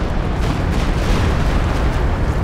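Stuka rocket barrage in a World War II strategy video game, heard as a continuous, dense roll of loud explosions and rumbling booms with no break in the blasts.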